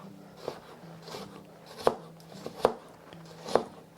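Knife chopping an onion on a cutting board, a handful of irregular sharp chops, some louder and near, alone without talk.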